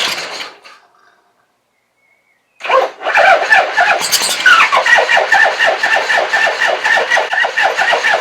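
A car on jump leads cranks briefly, pauses in near silence, then catches and runs with a loud, steady, slightly squealing engine note that carries on to the end.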